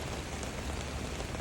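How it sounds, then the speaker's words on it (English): Heavy rain falls steadily during an atmospheric river near the San Pablo creek, a dense, constant wash of drops on surfaces, close and enveloping with no pauses. "the rain is supposed to subside"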